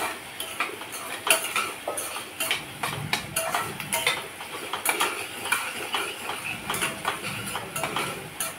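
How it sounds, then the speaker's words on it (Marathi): Onions being sautéed with a spoonful of salt in a pressure cooker for dum aloo, heard as repeated metallic clinks and scrapes of a spoon against the pan at a steady, irregular pace, near and moderately loud, with no talking. "कांदा आपण छान असा परतून घ्यायचा आहे."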